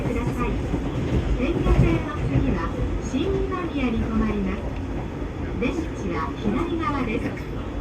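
Train rolling on rails toward Osaka through dense built-up neighborhoods, a steady rumble with rhythmic wheel clatter beneath a voice speaking throughout.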